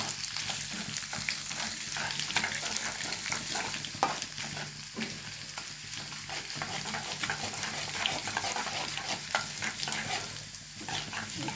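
Chopped ginger fries in a pan with a steady, close sizzle, while a spatula gives repeated light scrapes and stirs throughout.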